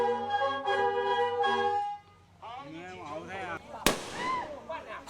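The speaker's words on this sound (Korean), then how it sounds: "귀가 얼얼할 정도로 총소리가 이어지는데요" Celebratory gun salute shots fired at a Miao hunters' village welcome ceremony in the mountains, a sharp loud crack ringing out after a stretch of festive horn-like tones and crowd voices, with chatter continuing around it.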